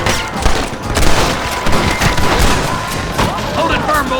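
Rapid gunfire from many shooters in a Red Dead Redemption shootout, dense overlapping shots and booms under shouted in-game voices, loud and close throughout.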